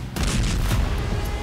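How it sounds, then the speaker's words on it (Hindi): A drone attack on soldiers in the Russia-Ukraine war ends in a loud explosion: a heavy, close boom with rumbling crackle that fades quickly over a second or so. "तभी जेलेंस्की का ड्रोन उनको ट्रैक करते हुए आगे बढ़ता दिखाई देता है और फिर होता है जबरदस्त धमाका।"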